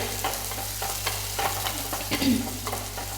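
Shallots, an onion, two green chillies, garlic and two pieces of ginger sautéing in a pan for a curry, a continuous close sizzle broken by soft repeated stirring scrapes.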